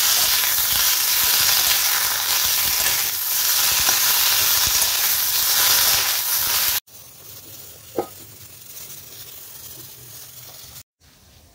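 Vegetables sizzle and fry in oil left over from frying fish, a steady broadband hiss filling most of the clip before dropping to a quieter sizzle with a single stir or clatter near the end.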